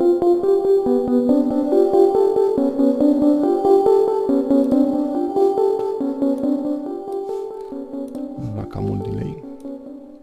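A Cubase VST software instrument plays a clear, tonal melodic line soaked in ping-pong delay and plate reverb, its notes echoing and overlapping before a brief low thump near the end.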